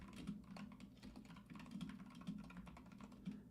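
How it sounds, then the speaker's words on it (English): Rapid, uneven typing on a computer keyboard clatters continuously at close range with soft repeated key clicks over a low background hum, no voices. "I'm sure that typing is very loud,"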